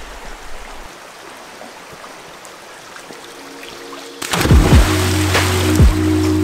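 A river rushes beside a hot spring pool along the Pitt River in British Columbia: a steady, broad watery hiss that swells into a louder, closer surge of flow partway through.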